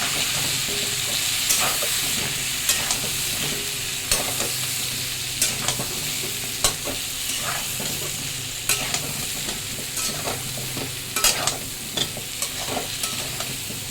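Potatoes frying in oil in a pan, a continuous loud sizzle broken by frequent scraping clicks of a spatula stirring through them.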